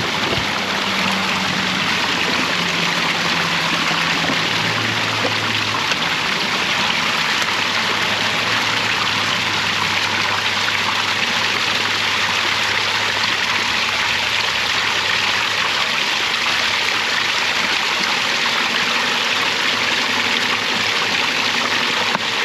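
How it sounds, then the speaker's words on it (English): Water gushes steadily from a fresh water source into jugs being filled near a campground, a continuous rushing flow with a faint low hum underneath and no talking. "Now I'm going to take the time to fill up my other 3 jugs of water"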